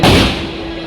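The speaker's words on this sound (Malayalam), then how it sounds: "ഓ പടക്കം പഠിക്കുന്ന സൗണ്ട് ചെവി അടിച്ചു വേനിപ്പം" A single loud, close bang from a firecracker during Shivaratri in Erumad, Tamil Nadu, a sharp burst that decays quickly into a fading rumble.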